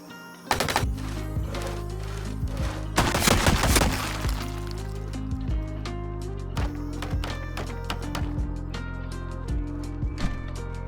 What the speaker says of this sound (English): I used my gun to try and kill the horde that had now gathered, but this just attracted more.